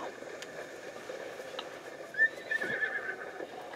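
A horse neighs in the Breath of the Wild video game, a clear whinny rising over a low game backdrop around the midpoint, with faint hoof clip-clop also present.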